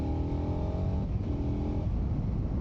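A 2021 KTM 1290 Super Adventure S motorcycle accelerates, its loud engine rising in pitch through a strong revving roar, heard close up for a few seconds.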